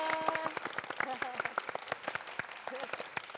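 A church congregation claps in a distinct, fairly quick rhythm of individual claps, with voices murmuring over the applause throughout.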